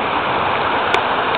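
Water rushes continuously at the Kamaniskeg waterfall pool while rain falls on its surface, a loud, steady, close wash of noise with one brief sharp tick midway.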